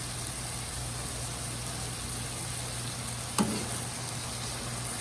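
Shrimp frying in a pan, a steady soft sizzle with continuous hiss and one brief clatter of a utensil partway through.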